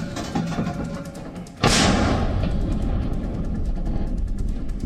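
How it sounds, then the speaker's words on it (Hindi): A Russian howitzer fires during the war in Ukraine: after a quieter stretch, a sudden loud blast erupts and rolls on as a sustained, heavy rumble. "यूक्रेन युद्ध में रशियन हॉवित्जर तोपें लगातार अटैक कर रही हैं।"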